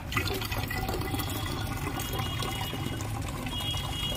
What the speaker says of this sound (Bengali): দেখছি যে টাইম কলে জল পড়ছে